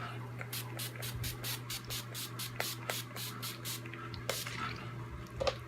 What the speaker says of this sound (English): let's go ahead and go in with the finishing spray by Scandinavia